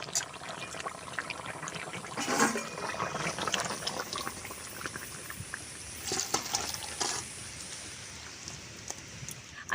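Fish curry with mixed vegetables simmering in a village-style pot, a steady soft bubbling hiss with a few louder bursts, close and continuous with no talking.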